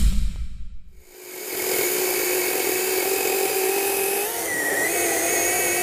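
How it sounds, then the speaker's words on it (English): A battery-powered chainsaw winds up after a short quiet gap and then runs at a steady, high-pitched whine as it cuts, loud and close, with a slight shift in pitch near the end. "I've never had a battery-powered chainsaw that could do that."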